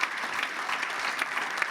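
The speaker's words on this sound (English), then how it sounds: "I'd ask you to give all of our speakers today a huge round of applause" An audience at a pre-election luncheon debate applauds the speakers, a dense sustained clapping from many hands that carries on evenly throughout.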